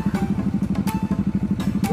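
A Yamaha NMAX motor scooter engine running on a ride near Bagac, Bataan, a close, loud, steady pulsing drone with a fast even rhythm and a few brief higher-pitched noises mixed in.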